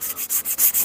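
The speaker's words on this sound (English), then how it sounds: "give everything a very, very light scuff with 600 grit" Light scuffing of car paint on a Chrysler VH Charger with 600-grit sandpaper: quick, even back-and-forth rubbing strokes, about six in under a second, close and crisp with no voices.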